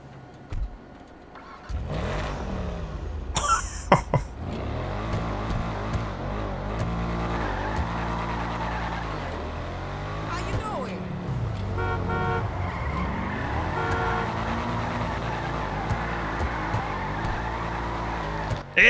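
A sports car in GTA 5 Online rumbles and revs continuously while being driven, with a horn toot and brief tire skid near the start, loud and close, no speech over it.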